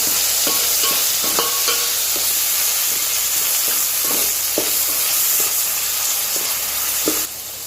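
Onions and tomatoes sautéing with a pinch of salt in a pan for prawn biryani, a constant close sizzle broken by repeated scraping stirs of a spoon, before the frying noise drops away near the end.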